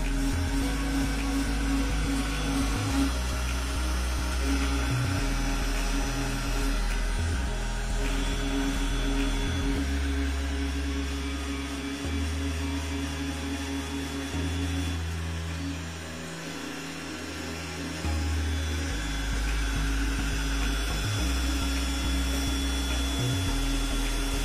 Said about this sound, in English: you can send this Gcode to the 3D printer, which will engrave it for you